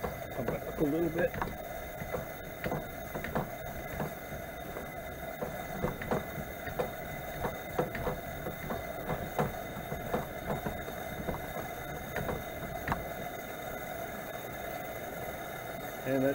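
Vintage Coleman 4M camping stove with both burners going, a faint steady hiss and soft rhythmic ticking, while a person talks over it nearby.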